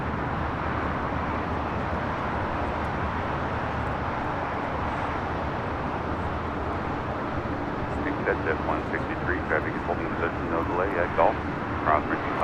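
A Hawaiian Airlines jet at LAX gives off a steady, broad engine roar that holds at a constant level throughout, with people talking faintly beneath it toward the end.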